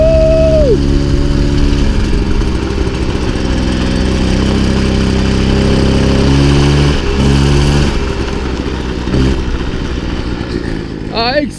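A 1974 Peugeot GT10 moped, still being run in, drives along with its small engine steadily accelerating, a loud, close buzzing drone that holds its pitch and rises again near the end, with no talking.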